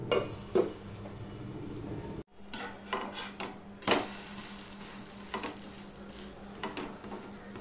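Egg frying on a flatbread in a pan, soft sizzle under repeated clinks and scrapes of a utensil against the pan, close and steady with a brief pause partway.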